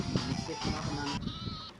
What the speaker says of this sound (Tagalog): Nagsak yung kambing na isa.